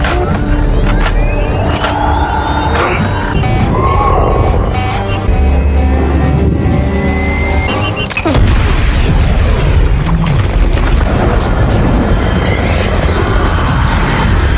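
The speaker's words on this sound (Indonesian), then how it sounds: "mereka pun langsung menembaknya" Gunfire rings out in a film as soldiers shoot at a creature, heavy booming blasts over a low rumbling score, with a sharp burst near the middle and dense action noise around it.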